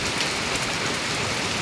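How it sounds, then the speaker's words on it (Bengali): Rain pours steadily outside a house with an unfinished veranda facing an open field, a close, even hiss of drops hitting surfaces with no voices. "কি সুন্দর বৃষ্টি"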